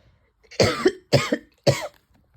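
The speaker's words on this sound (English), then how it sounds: "I have to cough" Three sharp, close coughs in quick succession, each a short burst followed by a brief pause, with quiet in between.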